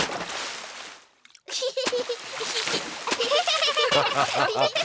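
Cartoon water splashing as a character steps into water: a burst of splashing, a brief pause, then more splashing and sloshing mixed with a character's talk.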